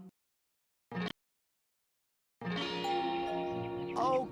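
A two-tone electronic doorbell chime sounds, pauses, then plays a longer sustained melodic tone, clear and close.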